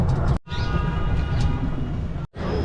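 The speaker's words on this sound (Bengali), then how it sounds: "যাচ্ছি, গাড়ি চলতে শুরু করেছে" Paid shuttle vehicle running from the Taj Mahal to the metro gate in Agra, a steady mid-level rolling hum and rattle with two brief cuts in the sound.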